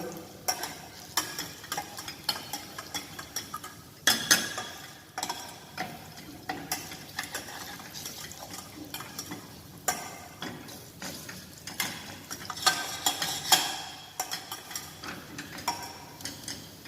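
Garlic frying for broad bean soup while a ladle stirs it continuously, quiet sizzle broken by frequent scraping clicks and taps against the pan, nearby, no voices.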